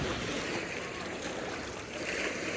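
A boat churns through water nearby, a steady wash of engine rumble and splashing waves filling the whole moment.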